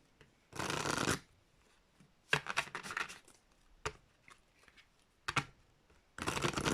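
Oracle cards being shuffled in several separate bursts of quick riffling and papery flicks, close and fairly quiet, with short pauses between them.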